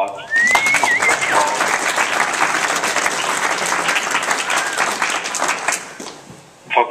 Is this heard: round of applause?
yes